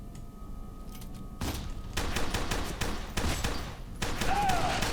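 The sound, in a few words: gunfire in the video game FEAR 2 Project Origin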